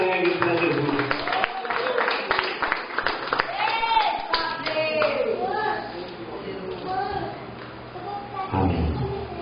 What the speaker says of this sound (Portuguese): De Deus com palmas bem alegres para Jesus